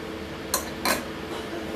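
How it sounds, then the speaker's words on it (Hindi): A spoon stirs a paste of honey and black pepper, giving two quick clinks against the bowl over a quiet background, with no talking. "और इसको मिक्स कर लें।"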